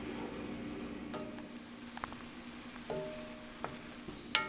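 Homemade chicken stock hits a hot pan and sizzles steadily while seasonings are scraped off the bottom, with a few sharp clinks from a stirring utensil scattered through the steady hiss.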